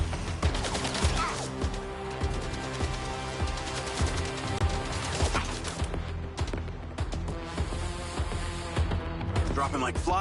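Dense, loud video-game gunfire rattles in rapid volleys over a busy, layered mix of in-game effects, continuing almost without pause.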